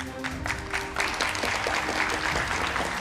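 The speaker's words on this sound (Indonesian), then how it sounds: "Tepuk tangan untuk semua narasumber saya pada malam hari ini." A studio audience applauds guests on an Indonesian political talk show, steady dense clapping with brief swells, a faint sustained tone underneath at the start.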